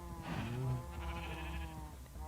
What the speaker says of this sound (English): She has a nice little redstone sheep farm going on here